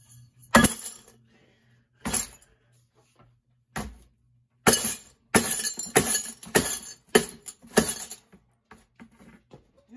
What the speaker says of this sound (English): This is where my broken glass goes.